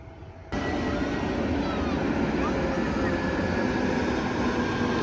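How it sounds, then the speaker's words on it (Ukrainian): A jet airliner's engines roar steadily as it turns on its approach to land at Funchal airport on Madeira, a constant loud drone heard from on board with a person talking over it. "Там літачок, бачите, розвертається."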